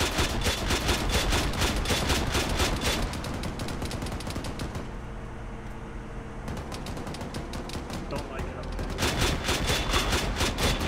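Sustained automatic gunfire rattles in rapid bursts at a BTR armored vehicle in a military video game, loud and close, easing briefly in the middle before resuming at full intensity.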